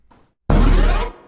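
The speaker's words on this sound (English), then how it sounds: "here is the sound of picking up body armor." A video game pickup sound for body armor, a faint short tick followed by a loud, dense half-second burst of a gritty synthesized blast that cuts off abruptly, heard alone.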